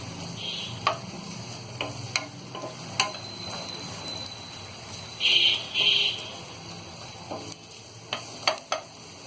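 Onions sizzle softly in a pan with intermittent stirring scrapes and clinks of a utensil, close and fairly quiet.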